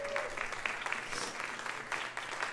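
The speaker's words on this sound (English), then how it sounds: "Can we give them a round of applause?" An indoor crowd at a local business gathering claps continuously in a dense, moderately loud round of applause.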